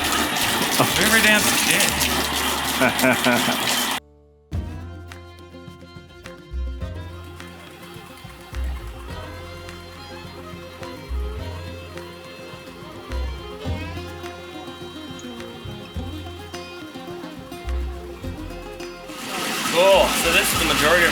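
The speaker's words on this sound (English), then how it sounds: "A garden fountain." Water gushing from a garden fountain of a gold cleanup setup rushes loudly at the start and end, with machinery droning and thumping in between while people talk over it.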